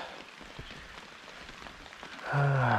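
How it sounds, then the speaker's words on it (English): Heavy summer rain patters steadily as a dense, even hiss, with a louder tonal rumble rising near the end. "totally forgot how hard it can rain in the summertime."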